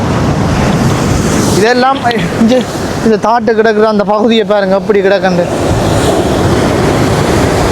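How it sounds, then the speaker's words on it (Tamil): Strong storm wind gusts hard in Jaffna, a loud continuous roar and buffeting that fills the scene, with someone speaking over it through the middle. "சட்டியான வேகமாக அடிக்குது காற்று."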